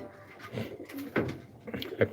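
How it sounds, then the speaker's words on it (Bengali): A racing pigeon chick makes soft, short cooing and chirping calls, several in a row, close by and fairly quiet. "এটা একটি রেসার কবুতরের বাচ্চা"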